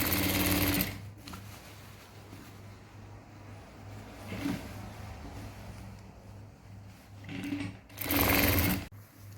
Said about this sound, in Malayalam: എലാസ്റ്റിക്കിൽ കൊള്ളാതെ തന്നെ നമ്മൾ സ്റ്റിച്ച് ചെയ്തെടുക്കുക.